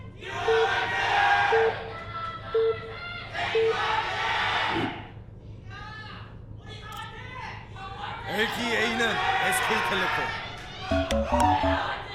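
A live crowd cheers at a 2014 SPL StarCraft esports match between SK T1 and KT on Star Station. The roaring and shouting rise in swells beneath constant, excited commentary.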